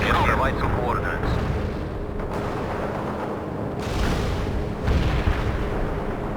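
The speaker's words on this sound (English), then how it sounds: "Launching a barrage. Strike on the way." Rumbling artillery barrage in the World in Conflict video game, a steady wall of heavy booms and blasts with fresh bursts rolling in, while radio voices talk over it.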